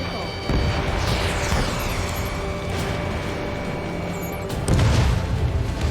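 A missile explodes in the combat flight game Ace Combat 7, a loud booming blast over a constant roar of jet engine and battle noise, with a second heavy boom near the end.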